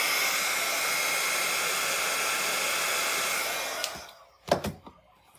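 An embossing heat tool blows a steady, loud whooshing roar for about four seconds during collage art work, then cuts off, followed by a couple of soft knocks and handling sounds.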